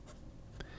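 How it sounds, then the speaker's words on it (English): A pen writes lightly on paper in a short, soft scratch of two brief strokes, quiet and close with no talking. "and then if you write with a little more pressure, not a lot more pressure, you can get some line variation in it."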